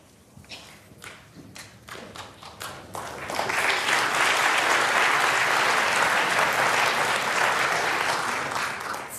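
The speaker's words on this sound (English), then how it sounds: "It's a sort of muted applause, isn't it?" Snooker crowd at the 2024 Grosvenor Champion of Champions, Ronnie O'Sullivan against Xiao Guodong, breaking into applause that starts with scattered claps and swells into sustained, moderately loud clapping.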